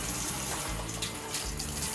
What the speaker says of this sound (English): The hand shower comes with 4 spray settings: powerful massage,